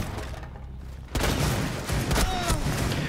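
Video game gunfire from a character's weapon with heavy recoil, a quiet lull and then a loud burst of rapid shots and thumps crowding the mix, with scattered impacts after.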